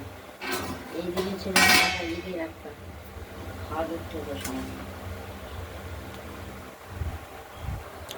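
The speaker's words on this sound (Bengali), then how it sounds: "ওভেনটা ধরিয়ে কড়াইটা আমরা বসিয়ে দিয়েছি এবং তাতে তেল দিয়ে দিয়েছি" A wok is set on the stove and pots and utensils are handled in a village kitchen, with clanks and metallic clinks near the start and a few softer knocks later, under a person speaking.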